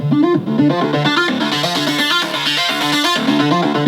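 A Sylenth software synthesizer plays a bright, buzzing melodic pattern with its warm drive distortion boosted, the gritty, saturated notes stepping in a quick repeating sequence, loud and alone with no talk.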